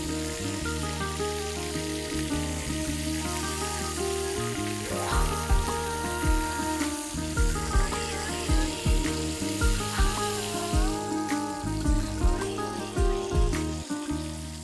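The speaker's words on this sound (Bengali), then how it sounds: "একদিক ভাজা হয়ে গেলে অন্য দিকটা উল্টে দিতে হবে" Hilsa fish frying in a pan at a TV cooking show gives a steady, close sizzle and crackle for the whole stretch, with background music playing underneath.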